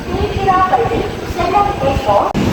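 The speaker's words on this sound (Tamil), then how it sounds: "ஸோ நாம் வந்த ட்ரெயின் வந்து மறுபடியும் அங்கே கிளம்பிடுச்சு." A passenger train on an Indian Railways line pulls away from a station toward Tambaram, its low rolling rumble running under someone talking close by.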